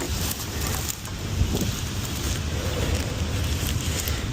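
Gusty outdoor wind on a cold day roars steadily across the microphone, a dense continuous rush with slight surges and no speech.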